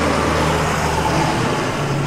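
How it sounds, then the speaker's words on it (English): A UPS delivery truck passes close by on a residential street, a steady, loud rumble of engine and road noise that holds for about two seconds with no talking. "Sorry for the noise from the UPS truck right there."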